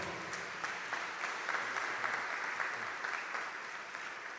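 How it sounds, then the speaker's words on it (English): An audience claps to welcome a student minister to the rostrum, with sustained, even applause from a crowd heard at moderate distance, holding steady throughout. "Please welcome him with a round of applause."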